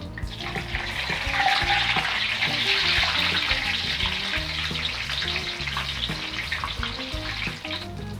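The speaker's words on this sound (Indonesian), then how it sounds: "Ini petainya digoreng sebentar aja," Chopped petai (stink beans) fry briefly in hot oil in a pan, giving a loud, steady crackling sizzle with dense popping that keeps going without any talking.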